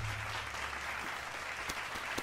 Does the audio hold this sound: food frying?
no